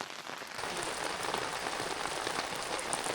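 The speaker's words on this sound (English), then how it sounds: "wait for this rain to dissipate a little bit" Steady rain falling outdoors on a bush road trip near the Dalmorton campground, a dense, even hiss of drops on surfaces, constant and fairly close with no voices.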